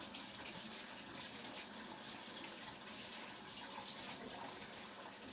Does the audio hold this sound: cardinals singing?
no